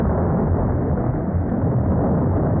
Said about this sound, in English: The explosion obliterated a small minefield somewhere.